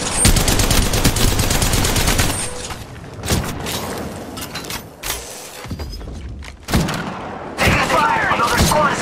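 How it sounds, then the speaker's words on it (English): Apex Legends gunfire cracks out in rapid automatic bursts, loud and close, then breaks into scattered single shots and impacts, with in-game voice callouts heard between the volleys. "Taking fire! Another squad is attacking us!"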